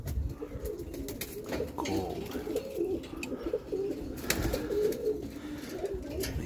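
Roller pigeon cock birds coo steadily outdoors on a sunny day, low soft throaty calls repeating through the clip, with a brief spoken word partway in.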